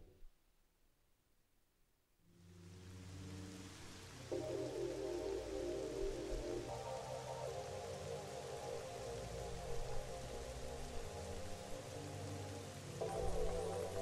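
Rain in Zelda Twilight Princess HD starts after a quiet moment and then falls steadily, a dense hiss with a soft musical tone layered underneath, fairly loud and continuous.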